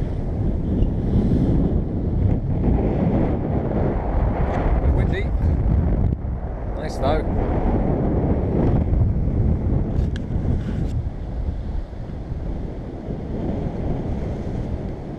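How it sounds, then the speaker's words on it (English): Sea waves wash and break against the edge of a stone pier at St Monans, a continuous rumbling surge under heavy wind buffeting on the microphone, with no clear talk. "Big wave coming in."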